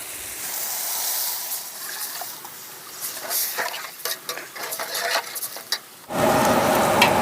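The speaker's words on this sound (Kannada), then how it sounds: "ಇವಾಗ 2 ಲೀಟ್ರ್ ನೀರು ಹಾಕೊಳ್ಳೋಣ" Water, about two litres, is poured into a cooking pot for mutton dum biryani, a close splashing rush with bubbling and stirring clatter, ending in a louder steady pour.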